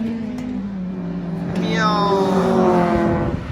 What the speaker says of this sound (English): Oh, there's a 33 GTR.